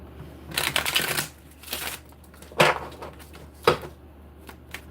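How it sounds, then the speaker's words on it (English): Tarot cards being shuffled by hand up close, a few bursts of riffling and sharp slaps of the deck with quiet pauses between them. "Shuffling for Sagittarius."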